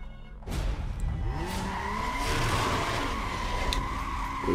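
Car driving and skidding in Need for Speed Most Wanted: a steady engine drone, then a rising tire squeal and skid with pitch sweeps, all close and sustained with no speech.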